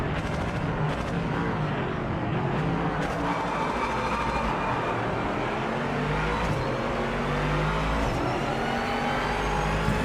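Racing video game car engines droning and revving steadily throughout, a dense layered motor roar with other cars mixed in, no voices.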